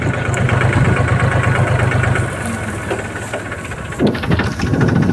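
A tractor engine idles with a steady low chugging rumble, close by, during mustard harvesting, its pitch shifting briefly near the end.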